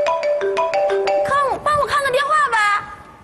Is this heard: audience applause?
no